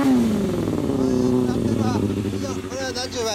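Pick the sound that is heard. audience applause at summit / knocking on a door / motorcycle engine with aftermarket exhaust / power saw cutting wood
motorcycle engine with aftermarket exhaust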